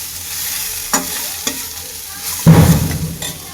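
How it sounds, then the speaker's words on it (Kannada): Poppy seeds, tomato, dry chili and ginger fry in oil with a steady soft sizzle, punctuated by several sharp stirring scrapes and a louder burst of crackling near the end, with no talk. "ಸೊ ಇದೆಲ್ಲ ಹುರಿದ್ಬಿಟ್ಟು ಮಾಡೋದ್ರಿಂದ ಎಣ್ಣೆಯಲ್ಲಿ ಚೆನ್ನಾಗಿರುತ್ತೆ."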